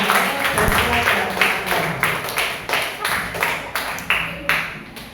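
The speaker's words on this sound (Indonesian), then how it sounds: "Nah, aplaus betul, aplaus yuk." Classroom clapping from a group of students, a steady run of sharp, regular claps at close range that carries on through the whole stretch with no voices over it.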